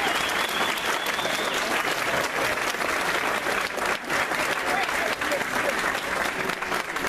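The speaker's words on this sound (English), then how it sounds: "let's get the candidates a final round of applause" Steady applause from the audience at a New Smyrna Beach candidate forum, a dense, even wash of clapping from a crowd lasting the whole stretch, moderately loud with no break.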